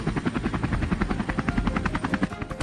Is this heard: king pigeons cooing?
no